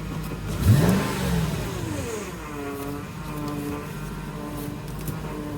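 Mercedes ML500 W163 V8 running after sitting parked for months: a steady, fairly quiet engine hum with a brief swell early on, then settling into an even idle.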